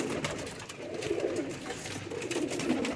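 Pigeons kept in a fancier's loft coo in soft, repeated low rolling calls, close and continuous over a light background hum.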